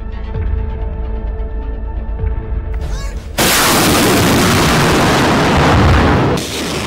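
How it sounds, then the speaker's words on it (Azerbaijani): Heavy artillery, mortar and large-calibre weapons shell an area. A quieter tonal stretch gives way to a sudden, very loud roaring barrage of booms that lasts a few seconds before easing slightly at the end. "iri çaplı silahlar, minaatanlar və müxtəlif çaplı artilleriya qurğularından intensiv atəşə tutub"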